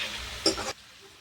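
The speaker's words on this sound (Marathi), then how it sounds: "लसूण तळलेला आहे, त्यात आता बारीक केलेली मिरची टाकूया" Finely chopped green chillies dropped into hot oil with fried garlic, a brief loud sizzling hiss that swells for about a quarter second and then cuts off abruptly to a quiet background.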